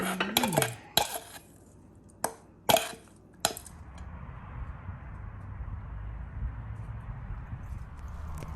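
A dried shrimp dish being stirred with utensils, giving several sharp metallic clinks and scrapes against a dish at close range, followed by quieter background noise.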